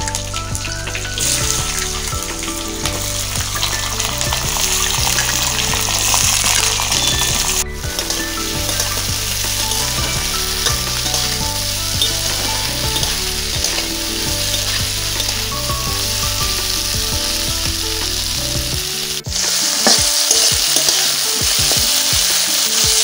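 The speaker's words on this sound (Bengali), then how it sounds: "কেটে রাখা বিনস আলুগুলো তেলের মধ্যে দিয়ে দিচ্ছি" Cut beans and potatoes with a slit green chilli frying in hot oil in a pan: a loud, dense, continuous sizzle and crackle that runs unbroken for over twenty seconds, close up and with no speech.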